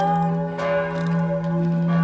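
Church bells ringing at Melk Abbey in Austria, a steady sustained peal with strong humming overtones that carries continuously and fairly loud throughout.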